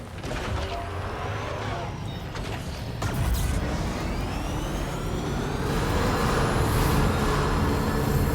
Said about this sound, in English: Use the monorail.